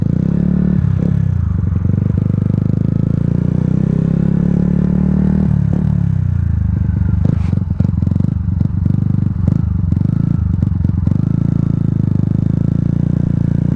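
A Yamaha MT-125 motorcycle engine running steadily during slow U-turn practice for a licence test in an empty area, a loud, close, continuous drone with small throttle changes and some rattling.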